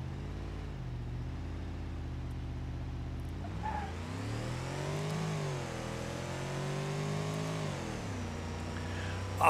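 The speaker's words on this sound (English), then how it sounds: "I'm going to rev this thing to the moon" Turbocharged Roamer engine in BeamNG.Drive revving hard in first gear, idling low then surging into sustained high-pitched revs that rise and dip, steady and close with no talking.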